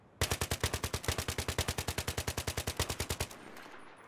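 SCAR-L assault rifle in Battlefield 3 fired on full auto: one sustained burst of about thirty rapid, evenly spaced shots lasting roughly three seconds, loud and close, cutting off into a short fading tail.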